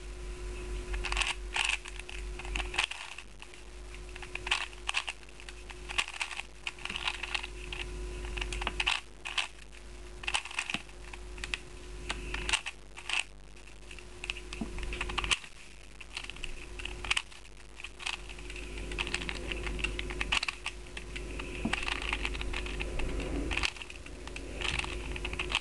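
Plastic 4x4 Rubik's cube being turned to swap two adjacent corners, a long run of quick clicking and clacking twists in irregular bursts, close and fairly quiet over a faint steady hum, with no talk.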